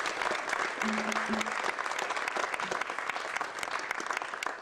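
A small crowd at a guitar workshop in a music store applauds, dense steady clapping that fades slightly toward the end, with a brief voice heard under it.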